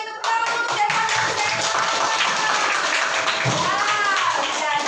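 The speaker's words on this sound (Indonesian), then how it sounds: "tepuk tangan untuk" Schoolchildren applaud a classmate in a classroom, a dense steady patter of many small hands that fills the whole span at moderate loudness, with young voices calling out over it.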